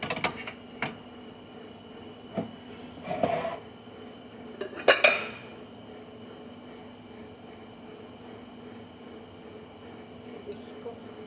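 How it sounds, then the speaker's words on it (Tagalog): Heavy dinner plates clink and clatter as they are shifted around, several sharp ceramic knocks in short bursts over a low steady hum, with someone talking nearby. "Bibigat pa naman ng mga plato. Lipat-lipat lahat."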